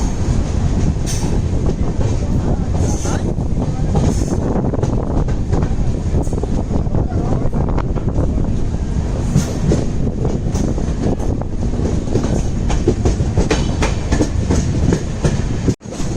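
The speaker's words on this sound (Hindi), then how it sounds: "फिलहाल हमारे ट्रेन को क्रॉसिंग के लिए लूप किया जा रहा है" Netravati Express passenger train running on the Konkan Railway rails between Khed and Madgaon, heard from on board as a steady, loud roar of wheels and carriage rumble with faint clickety-clack, continuous throughout and ending abruptly.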